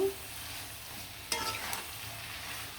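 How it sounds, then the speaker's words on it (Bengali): Boiled taro stolons stirred with spices in a pan, a soft steady scraping and faint sizzle throughout, with one sharper clatter of the spoon against the pan midway. "মশলার সাথে খুব সুন্দরভাবে লাগাতারা দিয়ে মিশিয়ে নিলেন"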